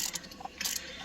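A socket ratchet tightens a bolt on a short throw shifter in a New Edge Mustang, a quick run of close, faint metallic clicks from the pawl over about a second.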